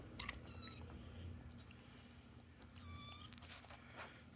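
Cat meowing twice, a second cat approaching a pet rat, the calls clear over a steady low household hum with small knocks and rustles between them.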